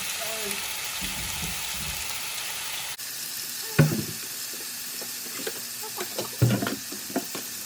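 Bacon fries in a pan with a low constant sizzle that grows clearer after an abrupt shift. Scattered pops and a few louder clattering knocks stand out, and brief talk is heard faintly.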